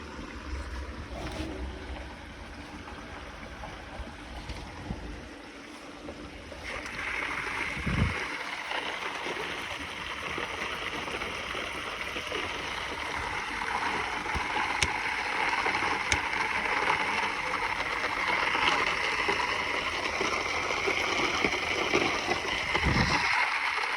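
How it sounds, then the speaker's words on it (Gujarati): Water runs through a pipe into a tank in a steady rushing gurgle that swells louder after several seconds and continues with splashy texture, close by, with no talking. "અહીં આ નળી થઈને જાય છે ટોકામાં પાણી"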